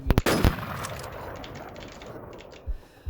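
Automatic gunfire from an online shooter game, Warz, with a few sharp loud bursts at the start, then a steady mix of game sounds and faint shots, and another brief shot near the end.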